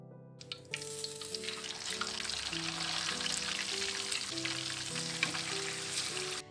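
Tofu and tempeh frying in a pan for a simple home-cooked meal, a dense, steady sizzle of hot oil that begins abruptly and continues loudly and close up, with a faint tonal hum beneath and no speech.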